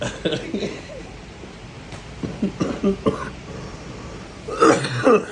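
A man coughing and clearing his throat in a few short bursts, one hoarse cluster at the end, heard close and fairly quiet against faint background noise, without clear speech.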